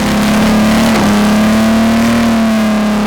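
A Maserati 250F racing car engine screams loudly at a sustained high-revving pitch close by on the Monaco streets, with a brief dip before climbing again, strong exhaust roar throughout.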